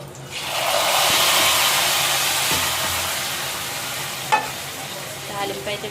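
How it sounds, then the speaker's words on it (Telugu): Curry leaves, dried red chillies and cumin sizzle in hot oil as a tempering for masala sambar, a loud, steady frying hiss that fills nearly the whole stretch with a small clink near the end. "తాలింపు అయితే పెట్టేస్తున్నాను నేను"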